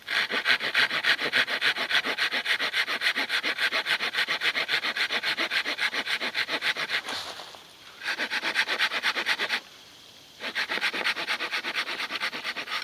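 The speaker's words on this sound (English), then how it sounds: "You want to take your saw, lean it back, and start sawing." A hand saw cutting through wood in fast, regular back-and-forth rasping strokes, close by, pausing briefly twice before resuming.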